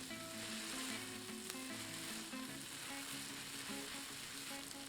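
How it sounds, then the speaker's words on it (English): Shrimp pad thai noodles sizzle hard in a hot pan while being tossed and stirred with tongs, a dense continuous frying hiss throughout with faint scraping and light clinks underneath. "let's use a tongue to toss and stir everything well"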